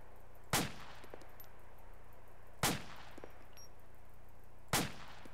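An M16A4 rifle with an RCO sight fired in the video game ARMA 2: three loud, sharp reports spaced about two seconds apart, each with a short decaying tail over a quiet background.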